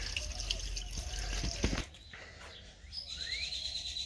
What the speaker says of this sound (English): the neighbors here have a broken pipe, and the slumlord will not fix it